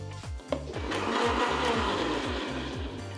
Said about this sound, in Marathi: आणि आता मिक्सर फिरवून घेऊयात आपण।